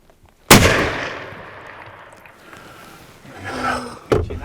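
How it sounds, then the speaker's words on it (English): A single sharp, loud rifle gunshot fired at a large buck during a deer hunt in Iowa, booming and echoing outward across open ground, followed by faint rustling and a second short knock near the end. "I just shot a giant buck"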